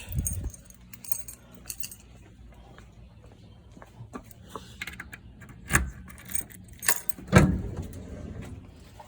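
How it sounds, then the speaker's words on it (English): Keys jangle at close range beside a 1963 Ford Galaxie, scattered metallic clinks and rattles building to a louder jingle near the end. "Let me grab the keys."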